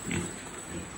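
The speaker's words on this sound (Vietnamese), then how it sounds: "Heo ăn uống khỏe mạnh bình thường." Ca Mau Bac Lieu breed pigs feeding in a pen make brief close grunts and oinks over a faint background hiss.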